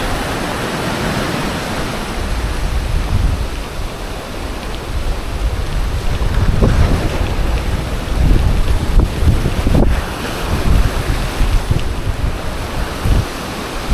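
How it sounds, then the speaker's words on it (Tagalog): Fairly calm sea waves wash around a boat, a continuous broadband roar of surf mixed with gusty wind buffeting the microphone, swelling and easing over several seconds with no talk. "Mas kalmado yung alon niya."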